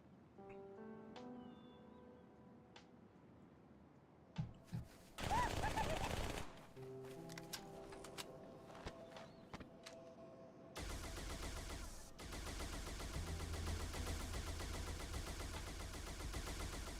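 A turret machine gun in Halo 2 fires sustained automatic bursts, with a short loud volley early on and then a long continuous roar of rapid shots, amid sparse game tones and clicks, close and without talking.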